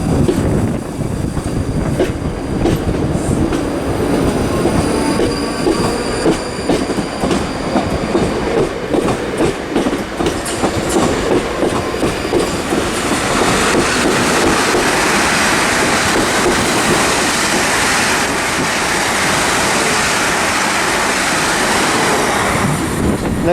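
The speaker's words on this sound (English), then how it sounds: "departing now is going to be the 1301 South Western Railway service to London Waterloo via Addleston," South Western Railway train departing Weybridge on the South Western Main Line for London Waterloo, a loud continuous rumble with rhythmic clickety-clack of wheels over rail joints that builds and grows brighter as the carriages pass close by.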